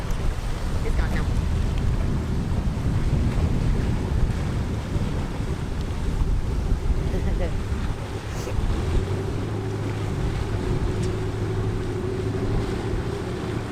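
Kayak tour boat motoring across cold, clear water at Pictured Rocks, a steady low engine drone mixed with rushing water, heavy wind buffeting and occasional voices.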